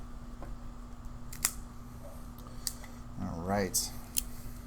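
A Rocky Patel Sungrown Maduro cigar is cut with a few sharp, close snips, and a person speaks briefly in between.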